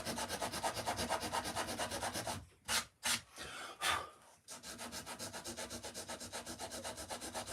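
A carved wood surface is rubbed by hand in fast, even back-and-forth strokes. It pauses for a few separate heavier swipes, then the rhythmic close rubbing resumes.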